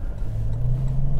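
Toyota 4WD such as a LandCruiser 200, Prado 150 or Hilux pulling away in sport mode with an automatic transmission, a steady low engine drone that rises slightly as the vehicle moves off, heard from inside the cabin.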